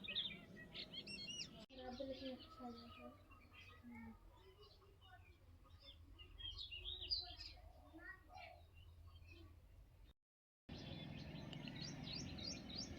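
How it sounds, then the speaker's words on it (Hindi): Sparrows chirp in a village field beside vegetable crops, quick thin tweets scattered near and far, with a person speaking softly over parts of it. "यहाँ पे तो गौरैया बैठी हैं"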